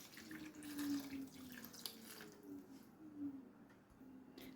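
Broth pours steadily into a Dutch oven for beef stew in a Ninja Combi, a soft continuous liquid splash and trickle heard close up with no talking.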